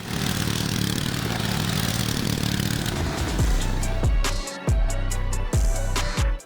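A tractor engine roaring at full throttle, loud and continuous, then surging in several sharp revving bursts with brief drops between them, heavy mechanical clatter underneath.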